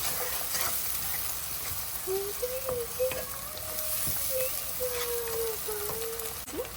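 Onions fry in hot oil with a continuous moderate sizzle and occasional stirring clicks, and a faint wavering tone runs through the middle.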